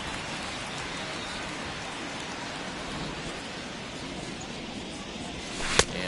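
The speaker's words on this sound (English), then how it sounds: "the rain starting to intensify here. It's coming down a little heavier now" Steady heavy rain pours over a ballgame in MLB The Show 21, a continuous broadband hiss with no break, plus a brief sharp click near the end.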